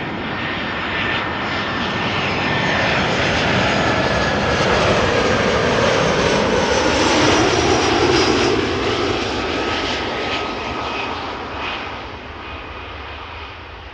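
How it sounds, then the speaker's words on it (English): A Croatia Airlines Airbus airliner lands at Amsterdam Schiphol, a loud engine roar with a high whine that swells toward its nearest point midway, then slowly fades, with no voices. "after the Croatia Airlines Airbus has touched down"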